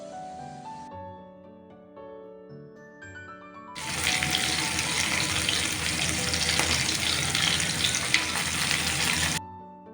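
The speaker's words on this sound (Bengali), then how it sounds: "এইভাবে উল্টে পাল্টে দুই পিঠেই মাছের পিসগুলোকে ভালো করে ভেজে নেব" Pieces of aar fish rubbed with salt, turmeric and mustard oil go into smoking-hot mustard oil for frying. A loud, steady crackling sizzle follows a few seconds of soft music.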